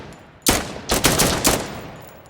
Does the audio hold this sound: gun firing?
yes